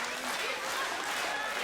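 A wrestling match crowd claps and cheers in a steady, dense wash of applause that carries on without pause, loud and fairly close, with a commentator talking over it.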